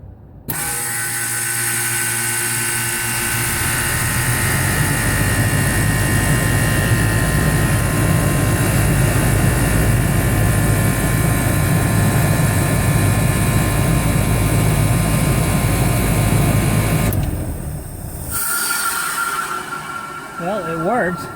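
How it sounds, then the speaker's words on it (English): Worn fan motor and blade of a wall-mount heat pump package unit running for about seventeen seconds with a loud, rough, rattling whir, then cutting out as it winds down. "I was going to see if I can get it running for a little while, but this blade may not sound pretty good"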